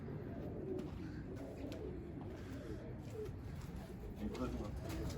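Dove-like cooing calls of a black Galatz tumbler pigeon repeat softly against a steady outdoor background, with people talking quietly throughout.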